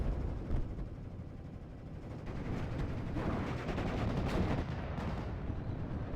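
Machine guns rattle during a World War II infantry-versus-airborne video game battle, a continuous low rumble of distant automatic fire and thuds, steady and moderately faint, with no talk.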